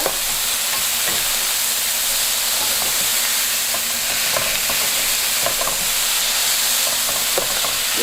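Ham added to a hot pan fries with a loud, continuous sizzle that stays close and even throughout, dotted with faint scraping ticks from stirring.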